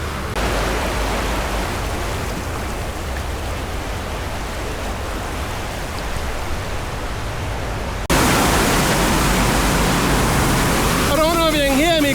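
Loud, steady rush of pumped water at Six Flags Fiesta Texas water attraction, a dense roar that swells even louder partway through and continues to the end, with a voice briefly speaking over it near the finish.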